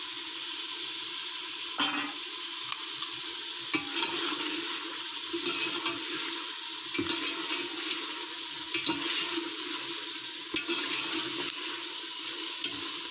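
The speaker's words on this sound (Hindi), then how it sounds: "अब मैं इसमें ये हरी मिर्चें डाल दूँगी।" Mutton frying in a pan for ridge gourd curry as green chillies go in: a constant close sizzle with occasional scrapes and clatters of stirring throughout.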